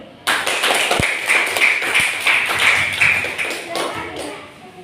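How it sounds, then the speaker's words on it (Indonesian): A classroom of students claps hands together for a group of classmates, a dense patter of clapping starting abruptly after a brief pause, with a few louder thuds and voices murmuring under it before it thins out near the end. "coba kita kasih tepuk tangan buat kelompok petani."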